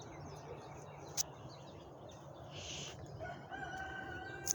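A rooster crows faintly in the distance over a steady outdoor background hum in a sunflower garden, with no voices present.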